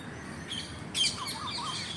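Koels call in a natural setting, a few brief chirps with a louder burst midway and softer repeated notes after, fairly faint over quiet background.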